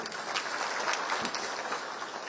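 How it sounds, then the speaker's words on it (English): Steady applause from a conference crowd at KICC, Nairobi, dense clapping filling the whole stretch without a break. "A better round of applause."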